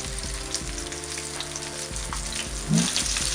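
Sea bass frying in a skillet, a steady close sizzle and crackle running throughout, with a brief louder spit of oil near the end.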